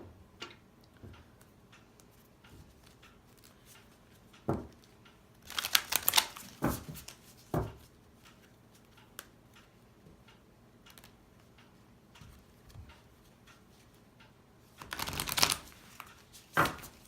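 Nature's Whispers oracle cards being shuffled and drawn in a quiet room, with two short bursts of close riffling and card rustle separated by scattered soft taps and handling noises.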